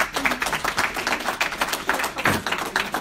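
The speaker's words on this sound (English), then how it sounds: "So can you give these two a round of applause?" Dense clapping from a crowd, a steady wash of many hands applauding at moderate volume for a few seconds.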